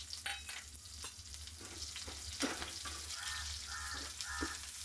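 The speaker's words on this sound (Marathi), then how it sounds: "तरी ते मी आता कांदा भाजून घेते." Onions roasting dry in a pan for a traditional Bhogi vegetable dish, a steady low sizzle with scattered stirring scrapes and clinks, moderately close and without talk.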